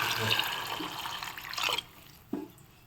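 Water is poured into a pan of misal curry made with turmeric and sprouted moth beans, a close splashing gush that fades out, followed by a couple of brief clatters.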